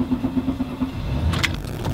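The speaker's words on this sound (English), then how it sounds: "let's get this car started" A car engine cranks and catches after a quick series of rhythmic clicks at the start, then settles into a low rumble with a bright rattle near the end, close and fairly loud.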